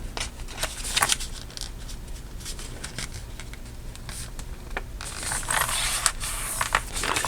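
Sheet of paper being folded for an origami pouch, close crisp crinkles, rustles and creases in irregular bursts, louder handling near the end.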